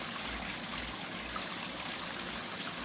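Small backyard waterfall trickling into a pond, a steady close splash and gurgle of falling water, continuous and even with no other sounds.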